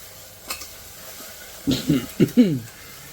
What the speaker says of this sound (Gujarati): જ્યાર સુધી આપણા અહીંયા વેજીટેબલ્સ પકાતા નથી જે કાંદા અને ટામેટા છે ત્યાર સુધી આપણે તવીથો ચલાવવો પડશે